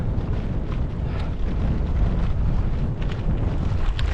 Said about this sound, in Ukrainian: тут вітер просто в лоб